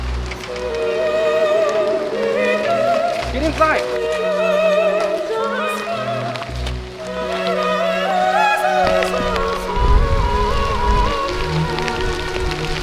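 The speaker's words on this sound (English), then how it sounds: "Ah, it's raining." Heavy rain comes down on a campsite, drumming steadily and loudly on tent fabric and gear, while people talk over it.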